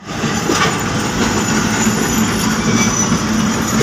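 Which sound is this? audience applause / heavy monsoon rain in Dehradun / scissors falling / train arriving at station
train arriving at station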